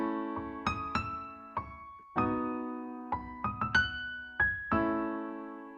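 The Skeleton Crew theme harmony, with the melody played over top on a keyboard-like instrument. Sustained chords sound under a sequence of struck melody notes in an unhurried, moderately quiet phrase.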